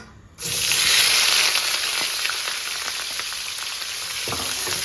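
Chopped onions hit hot oil in a pan for okra curry and sizzle loudly and steadily, with a broad hiss that starts abruptly and holds, plus occasional light stirring clatter.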